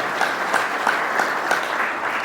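Audience clapping steadily at a gathering, a dense continuous patter of many hands with slightly louder swells roughly every third of a second, no voices over it.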